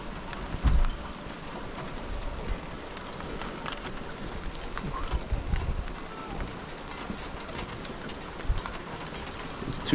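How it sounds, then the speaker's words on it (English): Rain coming down outdoors as a constant soft hiss and patter, with occasional bird coos and faint background thumps mixed in at low level. "The rain's been coming down for 2 hours now at least."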